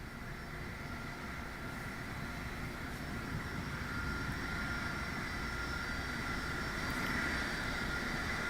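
A Boeing 747 shuttle carrier aircraft carrying Space Shuttle Endeavour flies over the Florida Space Coast at about 1,500 feet, its engines a continuous distant roar that swells slowly and evenly for several seconds.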